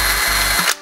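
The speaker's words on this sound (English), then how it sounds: "So we only have to drill one pilot hole." A power drill whirs loudly for under a second, drilling a pilot hole to mount a towel ring, with a steady motor hum, briefly dipping once, then winds down and stops.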